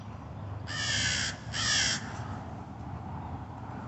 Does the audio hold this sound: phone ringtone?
no